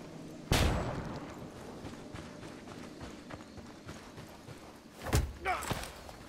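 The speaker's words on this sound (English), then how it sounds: "Lobbing a flashbang." A flashbang in the Ghost Recon Wildlands video game bursts with a sharp, loud crack early on, followed by a quieter stretch and then another pair of impacts near the end.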